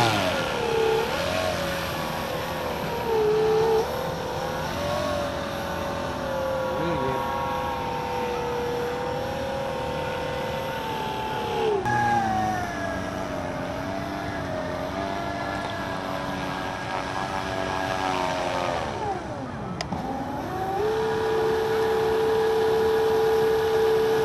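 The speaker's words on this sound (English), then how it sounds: "We're at Frenchman's Bay with the quarter scale aircraft." Quarter-scale model aircraft engine running during water trials at Frenchman's Bay, a steady loud buzzing drone that rises and falls in pitch with throttle changes, dipping sharply near the end before settling into a higher, even whine.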